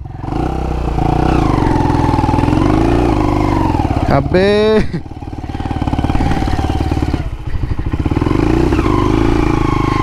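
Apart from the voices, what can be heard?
XL motorcycle engine revving with locked rpm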